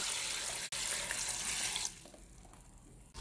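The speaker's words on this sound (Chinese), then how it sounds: "首先准备从菜市场买来的黄豆芽，里面撒一小勺盐，倒入清水洗净" Store-bought soybean sprouts washed in a basin of clean water with a little salt, a soft splashing, rushing wash that drops to a quieter trickle partway through.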